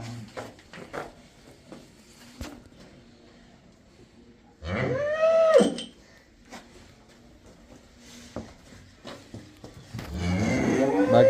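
A cow gives a long, loud moo close by, with a second lower moo starting near the end; quiet farmyard noises fill the gaps.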